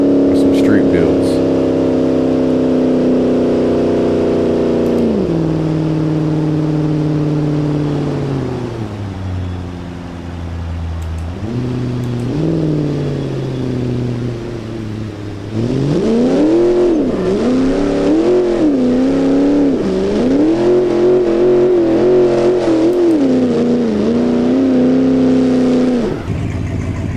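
A Dodge Dakota R/T truck engine accelerates on a street, revving loudly through rising gear pulls with pitch climbing and dropping at each shift, steady and close throughout.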